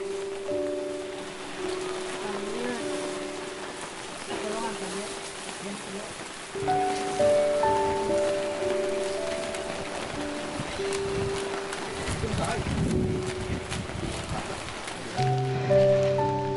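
Rain falls steadily on a mountain hiking trail on Gunung Cikuray via Cintanagara, a constant close hiss of drops that runs throughout, with faint tonal sounds beneath.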